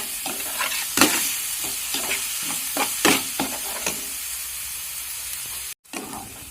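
Onions frying in a pan for Kottayam-style pepper chicken, stirred with a spatula: a steady sizzle under repeated scraping strokes, close and moderately loud, with a brief dropout near the end and no talking.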